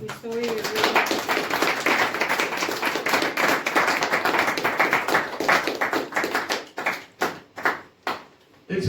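A church congregation claps hands in worship as an offering, a dense steady patter of many hands that thins into separate louder claps toward the end.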